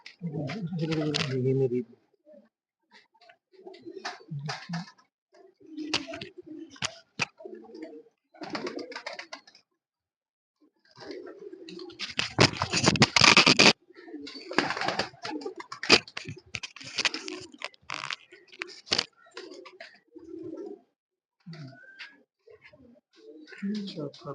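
Low coos from racing pigeons at a pigeon-flying contest in Punjab sound repeatedly between people talking nearby, with a brief louder flurry of noise in the middle.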